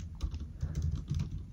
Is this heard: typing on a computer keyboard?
yes